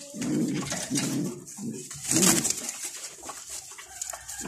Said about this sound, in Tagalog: Ito nga mga kalapatids.